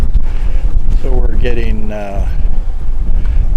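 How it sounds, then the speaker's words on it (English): Steady wind gusting across an anchorage at Manjack Cay in the Bahamas, buffeting the microphone as a rushing roar throughout, with someone speaking briefly over it. "It's been windy for about 2 days now"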